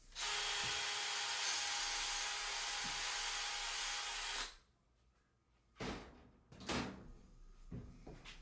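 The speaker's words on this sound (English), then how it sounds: "Now I'm just going to pre-drill the wood just to make sure I don't split it" A loud, steady power drill whirs continuously for several seconds pre-drilling wood for a laundry room shelf bracket, then stops, followed by a few sharp knocks and clatters of handling.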